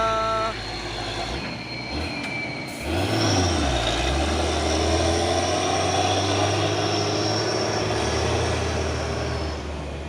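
A Fuso 6x2 220 PS truck's heavy engine drones steadily and loudly while climbing a steep hill, its low rumble shifting in pitch as it labors, with a brief hiss early on.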